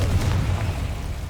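A Confringo spell explodes in Hogwarts Legacy with a loud, deep boom that rumbles on for about a second, heard on its own with no talking.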